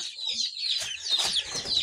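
Hens and chicks cluck and peep together in a chicken pen, with a steady run of high chirps and short low clucks close by, no talking.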